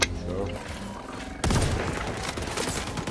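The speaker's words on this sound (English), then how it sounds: "he's using the most overpowered sniper in the game" Sniper rifle fire in the online shooter XDefiant, heard as a sudden loud burst of gunfire midway, followed by continuing dense battle noise with other shots and explosions, over a quieter stretch of game sound at the start.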